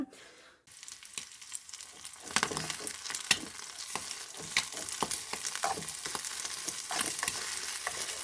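Egg fries and is stirred into a palya in a hot pan: close, steady sizzling with repeated scraping strokes of a spatula after a brief quiet start.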